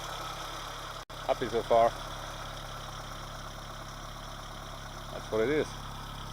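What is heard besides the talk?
1980 Honda Civic engine idling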